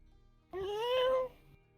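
A person imitates a cat's meow in a single drawn-out, rising vocal mew lasting under a second, fairly close and clear against a quiet background, during a VRChat role-play.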